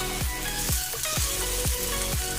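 An egg fries in a pan with rice, giving a close, continuous sizzle with faint spitting crackles and a few repeated swooping tones running through it.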